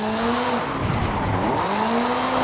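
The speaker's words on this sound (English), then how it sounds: "This is Mr. Kenneth Block's Hooligan Gymkhana 10 Ford Focus RS RX. 2-litre, turbocharged, front-mounted engine and all-wheel drive" A turbocharged 2-litre, all-wheel-drive Ford Focus RS RX rally car drifts in Forza Horizon 5, its engine droning and revving with rising and falling pitch as the tires squeal, loud and continuous.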